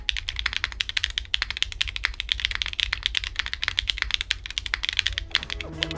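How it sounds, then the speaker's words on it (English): Typing on a Zoom 75 budget mechanical keyboard, stock with no foams and a non-flex cut PCB, producing a steady, dense run of close clicky-thocky keystrokes throughout. "this keyboard sounds great with little to no modding required"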